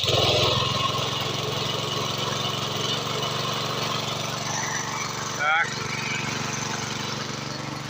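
A small water pump engine drawing water and fertilizer from a well and tank for drip irrigation runs steadily and loudly, with a brief sharp throttle blip near the end.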